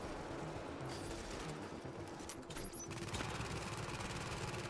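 An automatic turret in The Division fires rapid bursts amid layered gunfire and game ambience, with the densest stretch of shots coming near the end.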